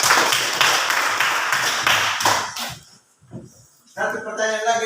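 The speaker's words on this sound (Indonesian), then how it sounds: "Tepuk tangan untuk prinsip." Classroom students clapping for a group, a dense burst of rapid applause for a couple of seconds that fades into scattered claps, followed by a voice speaking.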